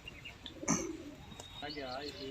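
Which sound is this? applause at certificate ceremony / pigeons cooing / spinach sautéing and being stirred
pigeons cooing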